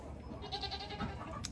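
Goats on a small farm bleat at chore time, several wavering calls overlapping at moderate distance amid low background noise, with no talking.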